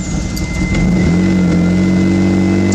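Mitsubishi 3000GT VR4 engine on a weak, nearly dead battery catching and settling into a loud, close, steady idle with a rising tone about a second in.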